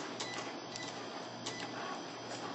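A Cricut cutting machine runs steadily indoors in an apartment, making a continuous whirring, mechanical buzz with faint periodic ticks. A dehumidifier and a washing machine may be running in the background.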